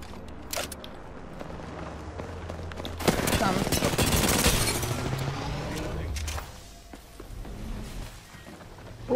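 Gunfire from Apex Legends erupts in a dense, loud burst of rapid shots about a third of the way in, then keeps rattling at a lower level, with game sounds and some talking around it.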